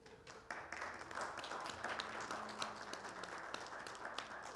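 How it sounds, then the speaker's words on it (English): Steady applause from a large church congregation during a worship service fills the space, a dense wash of clapping that holds evenly throughout with no talk over it. "let us clap for you and show you a little bit of love"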